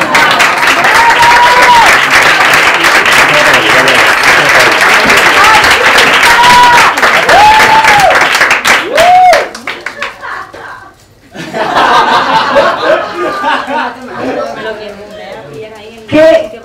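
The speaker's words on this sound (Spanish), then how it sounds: "un aplauso a Virginia, por favor" A stand-up comedy audience breaks into loud sustained applause with scattered chuckles, the clapping filling the room for about nine seconds before fading, then a second, looser wave of clapping and laughter, with a voice speaking over parts of it.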